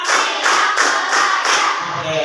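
Class clapping game in an Indonesian classroom, with a group clapping hands together in rhythmic bursts, about five evenly spaced claps or clap clusters at roughly one per third of a second, close and fairly loud with faint voices beneath.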